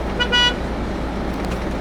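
A Yutong bus rolls along a road between Ngwe Saung Beach and Yangon, with a steady low engine and road rumble throughout and a short horn toot near the start.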